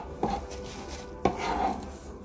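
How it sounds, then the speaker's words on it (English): A knife chopping cilantro on a board, two distinct close knocks about a second apart with faint scraping between, no voices. "I hate when I cut cilantro"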